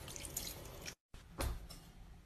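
Tap water running and splashing in a sink during rinsing, a close hissing stream that cuts out briefly, then returns with a louder splash.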